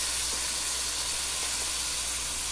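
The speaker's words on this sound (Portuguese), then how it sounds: "Vou dar uma mexidinha pra refogar junto." Rice and broccoli sautéing together in a hot pan give off a steady, even sizzle that holds constant throughout with no voices.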